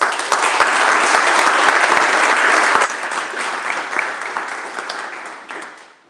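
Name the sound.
audience applause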